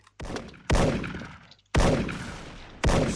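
Gold PSG-1 sniper rifle firing in the online shooter Special Force, three loud, sharp shots spaced about a second apart, each with a booming decay, and a softer shot at the start.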